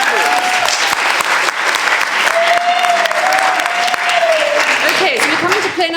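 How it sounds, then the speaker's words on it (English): Steady audience applause fills the room after a youth play performance at an African youth festival, a dense wash of clapping held at even loudness throughout, with a faint whistle-like tone gliding over it. "Let's give the first player a big round of applause."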